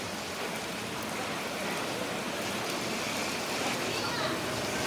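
Steady heavy rain pours without a break on the roofs of Pasar Sentral market stalls in Gorontalo, a dense, even wash of water noise with no voices.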